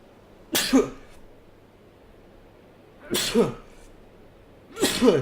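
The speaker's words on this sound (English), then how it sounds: "I just had a sneezing fit" Three sharp sneezes in a sneezing fit, one near the start, one in the middle and one at the end, loud and close against a quiet indoor background with no talk.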